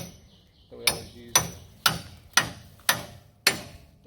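A masonry brick chisel is hammered in a junkyard during Jeep parts salvage: six sharp metallic strikes land in a steady rhythm about half a second apart, close and loud, each with a short ringing decay.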